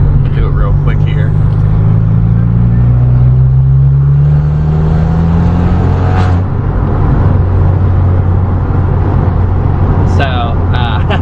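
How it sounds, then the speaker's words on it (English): A VW MK6 GLI with a cold air intake accelerating hard in fourth gear as the turbo builds boost, a loud rising engine drone heard from inside the car with someone talking over it. "Here's fourth gear, but just watch when the turbo kicks"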